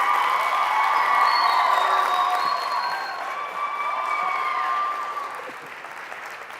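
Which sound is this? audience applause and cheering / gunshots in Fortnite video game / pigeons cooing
audience applause and cheering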